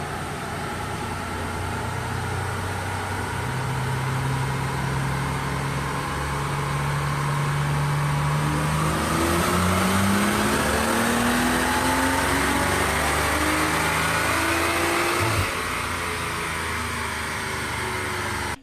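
A BMW M235i engine revs continuously on a dyno, pitch climbing steadily through the gears then dropping, loud and sustained, with a droning roar throughout.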